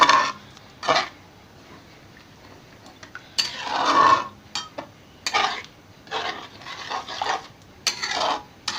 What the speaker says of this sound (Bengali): এই নারকেলের দুধটা দিয়ে দিলাম। ভালো করে এবার এটাকে মিশিয়ে দিলাম।